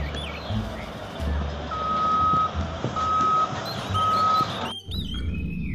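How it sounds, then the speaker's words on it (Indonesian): A mining truck in reverse sounds three evenly spaced warning beeps over a rumbling engine, fairly close and loud, with brief hisses and a clunk near the end. "Kalau yang ini truk tambang."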